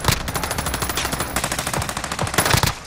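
Rapid automatic machine gun fire in Warzone on the Caldera map rattles out in dense, sustained bursts, close and loud, with no talk over it.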